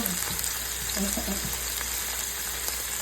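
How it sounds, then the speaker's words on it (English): Italian sausages searing in a pan alongside onions, green peppers and fresh garlic, giving a steady close frying sizzle throughout with a few faint clinks. "You want a good sear on each side so they can finish cooking."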